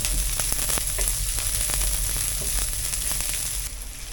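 Garlic sizzles in a frying pan with onions for chicken liver and gizzard adobo, a close, steady crackling hiss with small pops and stirring taps before easing slightly at the end.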